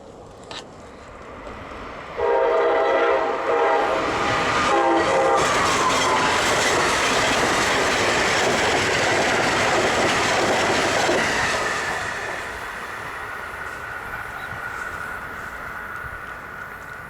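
A northbound extra freight train rolls past a railfan meet in Perryville, Maryland, near sunset, with a loud sustained horn blast early and a close, steady roar of wheels and cars that eases slightly toward the end.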